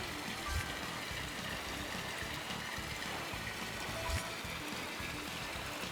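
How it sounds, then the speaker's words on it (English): Rushing rapids water in the Ty the Tasmanian Tiger video game: a steady, faint, broadband wash like a running faucet, continuous throughout with no voices. "the more I go down this rapid way, it sounds like a faucet running"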